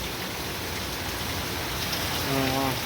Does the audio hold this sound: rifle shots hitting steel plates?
no